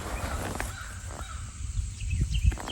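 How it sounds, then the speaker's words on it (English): Several crows caw in harsh, repeated calls at moderate distance, layered over a steady low outdoor rumble and scattered rustling, with no voices during the calls. "We're hearing the crows"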